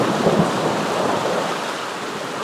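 Heavy rain pours steadily on a wilderness trail during a thunderstorm, with a low rumble of thunder under the dense rainfall, loud and continuous.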